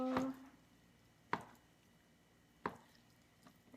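A knife slices tofu or vegetables on a board, three crisp separate cuts spaced over a second apart, close and fairly faint with no talking.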